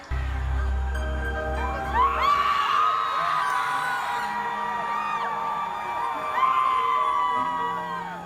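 A 2018 concert crowd in Los Angeles screams and whoops loudly over sustained music, with high excited voices rising in waves.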